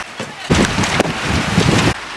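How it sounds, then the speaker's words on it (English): Heavy rain pours down outdoors beside a quail aviary, a dense broadband hiss swelling over two seconds with gusty wind buffeting the microphone. "the rain got a little bit heavy"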